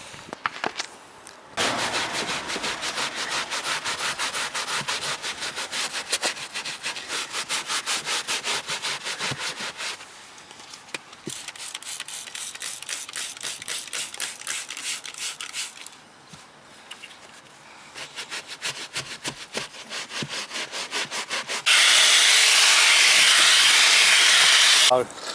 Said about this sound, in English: I'm going to start with the scrubbing now.